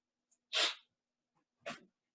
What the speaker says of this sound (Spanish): Ah, que va a estornudar.